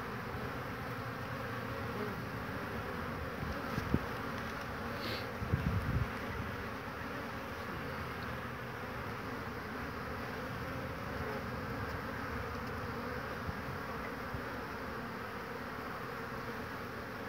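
A soft, steady buzz of many honeybees around an old wooden hive fills the air, with a few louder passes of single bees drifting close; no talking.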